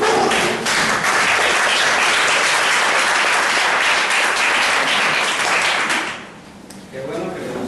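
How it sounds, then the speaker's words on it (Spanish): A church gathering breaks into loud, dense applause that fills the room for about six seconds, then drops off sharply into quieter scattered sound. "le doy un aplauso al Señor"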